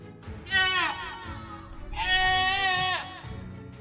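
A goat bleats twice as a sound effect, a short wavering cry followed by a longer, louder quavering bleat, close and clear over a low background rumble.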